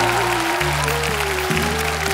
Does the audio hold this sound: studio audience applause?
yes